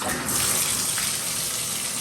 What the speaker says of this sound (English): Now it's the time to turn on the water.